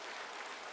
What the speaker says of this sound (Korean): 우리 한번 축복합시다. 박수해 주겠습니다